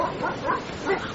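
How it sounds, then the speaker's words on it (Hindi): Dogs bark and yip on a beach at night, several short overlapping calls a few tenths of a second apart, moderately close with a rough noisy background. "उसे अपने पीछे भागते हुए कुत्तों की आवाज सुनाई दी।"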